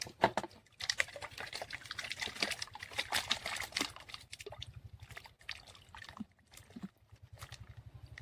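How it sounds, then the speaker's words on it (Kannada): Water poured into a drum for preparing jeevamrutha, a quiet uneven trickling and gurgling flow that stops and starts several times, with faint background noise. "ಡ್ರಮ್ಮಿಗೆ ನೀರು ತುಂಬಿಸ್ಬೇಕು, ಸ್ವಲ್ಪ ಕಮ್ಮಿ ತುಂಬಿಸಿ."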